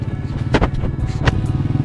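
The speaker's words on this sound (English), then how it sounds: "Little generator." A small generator runs steadily at a motorcycle track day, its low hum constant throughout, with a couple of brief louder bumps over the drone.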